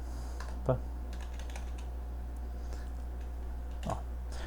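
A computer keyboard is being typed on at an office desk. The keystrokes come as soft, sparse clicks close by over a low steady hum, with no talk.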